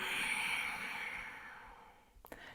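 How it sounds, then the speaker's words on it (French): A long, steady exhalation during a Hatha yoga breathing routine, close and fairly loud, fading out over a couple of seconds before a short breathy catch at the end. "Profonde inspire. Profonde expire."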